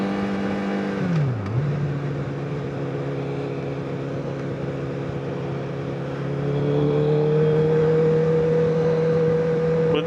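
A Honda CBR1000RR Fireblade sportbike's engine holds a steady, loud whine, drops briefly as it shifts, then climbs and settles at a higher pitch, heard close up with a constant roar.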